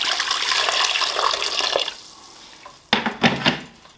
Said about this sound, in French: Dans mon multicuiseur, je vais ajouter un fond d'eau bouillante